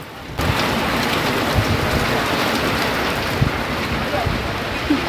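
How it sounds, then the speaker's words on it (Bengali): Heavy rain pours down steadily near the sea at Digha, a dense continuous hiss with scattered heavier drops, close and loud throughout. "বৃষ্টিটা কিন্তু বেশ ভালোই জোরে হচ্ছে"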